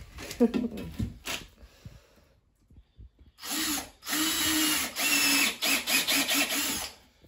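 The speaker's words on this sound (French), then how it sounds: "on va agrandir le trou jusqu'à la moitié du tasseau" A power drill enlarges a hole partway through a wooden batten, with a short burst early, a pause, then several loud whirring runs; someone talks briefly at the start.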